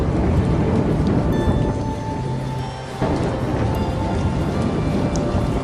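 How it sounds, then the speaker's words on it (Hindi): Heavy village downpour, a steady dense roar of rain hitting surfaces close by, continuous throughout with a brief slight dip midway. "मूसलाधार बारिश शुरू हो गई।"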